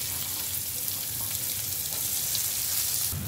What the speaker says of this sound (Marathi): तर त्याच्यामध्ये कांदा टाकून देऊया आपण